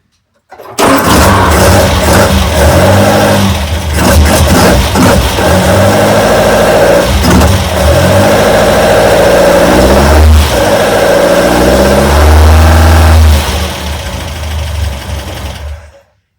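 A MK1 Ford Escort engine fitted with a Bestek ignition kit runs steadily up close, with a few blips of revving and a loud, even idle rumble before it cuts off near the end.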